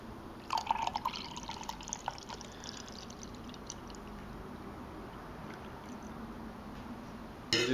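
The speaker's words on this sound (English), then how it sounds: "So let's pour it into my stone glass as usual and give it a sniff and taste." Homebrewed beer poured into a stone glass, a close gurgling, dripping stream that starts abruptly and continues steadily, then quiets before a final clunk.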